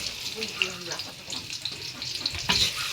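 Onion frying in oil for a chicken and bottle gourd curry, a steady close sizzle and crackle running through the whole span with small bursts, with faint voice traces in the background.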